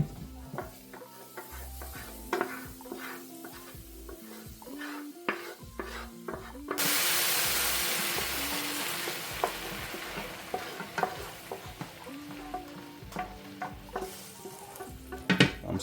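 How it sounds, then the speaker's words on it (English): Dry rice toasting in a dry pan just used for mushrooms while being stirred, giving a steady sizzle with frequent scraping and clinking of a utensil against the pan, close and fairly loud, with a surge of sizzling partway through. "Pan is dry, but the same pan we just cooked our mushrooms in. And we're gonna let our rice toast for a couple minutes."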